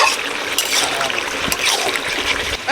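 Cooked chickpea ghugni curry is poured from a pan, producing a wet, close trickling and splattering with small slops and drips that continue steadily for a few seconds.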